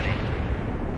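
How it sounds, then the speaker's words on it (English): Enemy artillery shells land among units in World in Conflict, a brief, loud, low rumbling blast with a deep booming tail. "we are being hit by enemy artillery again"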